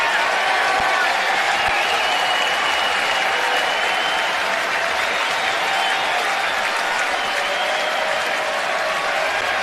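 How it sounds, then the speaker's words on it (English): Baseball stadium crowd at an MLB game cheers and applauds in a loud, sustained roar that fills the whole stretch, a dense wash of clapping and voices with no distinct gaps. "Crowd's getting into it."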